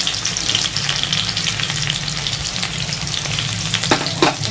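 Chili flakes, chopped garlic and chopped green chilies sizzle in hot oil in a pan, giving a steady, close frying hiss with a couple of brief stirring knocks toward the end.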